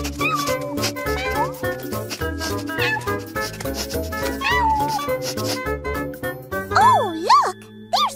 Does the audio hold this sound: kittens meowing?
yes